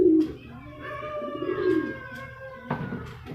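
Pigeons coo inside a loft, with several soft, throaty, rolling calls rising and falling close by in a quiet room.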